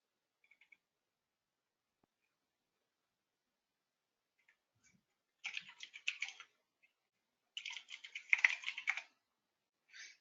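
Computer keyboard typing in a quiet room: two short bursts of rapid, crisp keystrokes, faint and close, with a single light tap at the very end.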